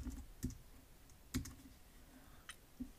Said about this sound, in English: Type this command right here. Type this one again.